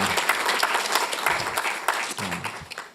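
Warm applause from a conference audience at an eco-design university event, a dense, steady clatter of many hands clapping throughout, fairly close and loud, with low murmurs underneath.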